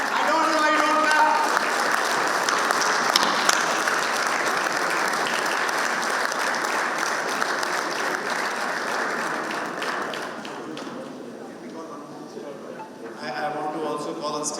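A sustained burst of applause from a large audience at a foundation day ceremony honouring past chairmen and presidents, with steady dense clapping that gradually thins toward the end, and a voice speaking at the start and close.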